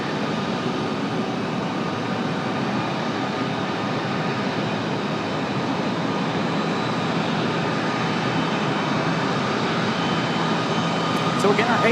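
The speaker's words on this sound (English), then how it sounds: "They are finally taxiing out here at A350-900." Airbus A350-900 jet taxiing at Raleigh-Durham International Airport, a steady, broadband engine roar and rumble that holds at an even level for the whole stretch, moderately near, with a faint whine on top.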